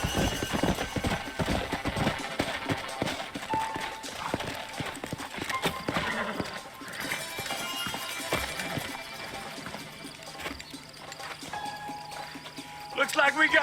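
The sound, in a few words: horses galloping in video game Red Dead Redemption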